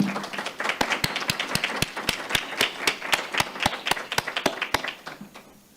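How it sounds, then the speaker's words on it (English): A board meeting audience applauds this month's appointees with a steady stream of sharp, fairly close claps that thin out and fade near the end, with no talking over it. "Let's share in a round of applause for this month's appointees."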